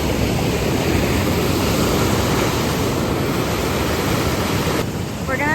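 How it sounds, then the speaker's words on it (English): A loud waterfall at Arrowhead Provincial Park, heard from the top of the falls, gives a dense, steady roar of rushing water filling the whole clip without a break. "This is our view from at the top of the falls. It is gorgeous and it's so loud."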